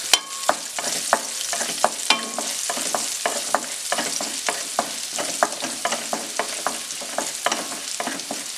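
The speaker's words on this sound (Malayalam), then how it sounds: "വെളുത്തുള്ളി ഇട്ട് കൊടുക്കുക. ഒന്ന് വഴറ്റി കൊടുക്കുക." Ginger and garlic sauté in hot coconut oil in a pan, with a steady close sizzle broken by regular scraping strokes of a stirring spoon.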